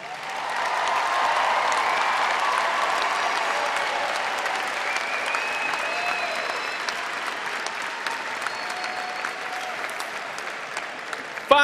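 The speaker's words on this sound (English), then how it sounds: "Please join me in giving all of our graduates a big round of applause." A large audience at the Rhode Island College 2022 commencement gives the graduates a sustained round of applause, dense and steady clapping that swells early and carries on for over ten seconds, heard from a distance.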